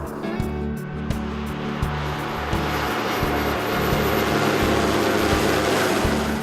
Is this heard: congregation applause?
no